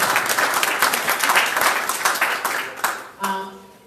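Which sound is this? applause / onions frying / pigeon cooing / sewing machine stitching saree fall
applause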